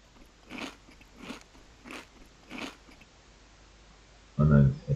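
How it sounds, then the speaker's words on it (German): Eating in the video game Zompiercer: four evenly spaced crunchy bites and chews over a low steady hum, followed by a louder burst at the end that sounds like a voice. "Ist hier was zum Essen, gleich mal Mampfen."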